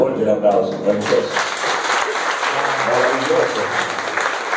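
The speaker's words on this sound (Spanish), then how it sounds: "Fuerte el aplauso, maravilloso." An audience applauds at a live comedy show in Pieres, with dense, steady clapping throughout and a voice talking over it at the start and again near the end.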